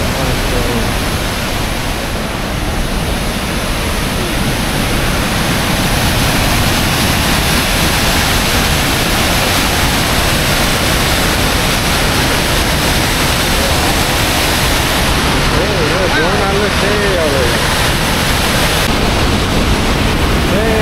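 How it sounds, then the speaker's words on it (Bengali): A roaring waterfall in Montenegro, a loud, unbroken broadband rush of falling water that fills the whole stretch without pause. "এই হচ্ছে সে নিয়াগারা ফলস, পানির কালার সে অস্থির মাশাআল্লাহ"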